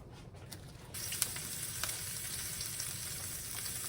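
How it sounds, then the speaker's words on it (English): A taco stuffed with meat, onions and cilantro sizzles on a hot griddle, a steady low frying crackle that grows louder after the first second as it is laid down, with occasional faint clicks and no talking. "And we're going to lay it on the griddle."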